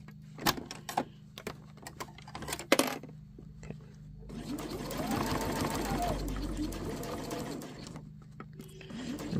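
A home sewing machine stitches across a bulky seam on a fabric scissor pouch, a steady whirring run building in the second half after some scattered clicks and fabric handling.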